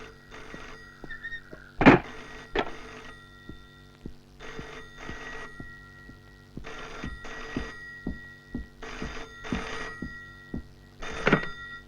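An old telephone bell rings in repeated bursts indoors, moderately faint, with short gaps between rings and occasional knocks and movement noises, no speech.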